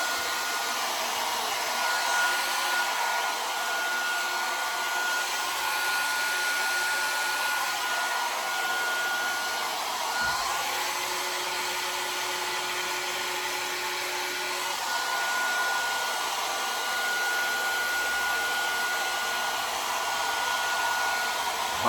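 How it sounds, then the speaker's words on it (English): Hair dryer on high heat and high volume blowing steadily through medium-length hair, a loud continuous whoosh that holds for the whole stretch with slight shifts as the airflow moves. "after I've blow dried the hair a little bit"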